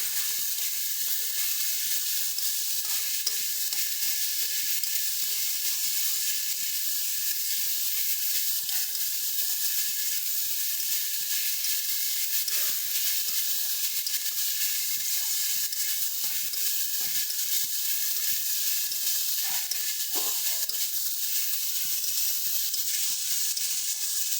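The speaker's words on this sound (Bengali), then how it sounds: "ভালো করে সমস্তটা মিশিয়ে নেব" Spiced cauliflower stalks with dry chilli powder and salt frying in a pan, a steady close sizzle and hiss running unbroken throughout, with faint scraping of stirring now and then.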